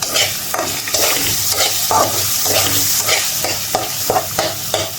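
Spices sautéing in a hot pan with a utensil, a continuous loud sizzle broken by regular scraping strokes of stirring, close up and without speech.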